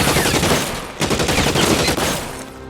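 Dense, continuous automatic gunfire rattles through a video game firefight, loud and close, with a brief break around the midpoint before the bursts resume and trail off.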